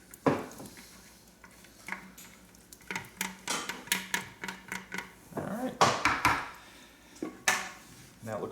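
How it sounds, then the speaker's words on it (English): A spatula scrapes bread dough for a poolish artisan loaf out of a bowl, giving a run of short scraping and knocking strokes, close and moderately loud, with no talk over them. "Have my spatula handy so I can scrape this out."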